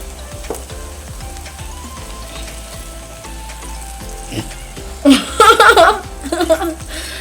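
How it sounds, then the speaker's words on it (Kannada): Milk poured into a pan of cooking vermicelli shavige sets off a sudden burst of loud, crackling sizzle over a steady background simmer, with a voice speaking softly nearby. "ಇವಾಗ ಹಾಲು ಹಾಕ್ಕೊತಿದ್ದೀನಿ"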